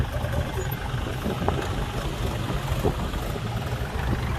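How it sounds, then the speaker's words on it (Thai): A tractor engine runs on a muddy field, a steady low rumbling drone at moderate distance with slight fluctuations, with no talking. "ตอนนี้รถไถก็ออกมาแล้วครับ"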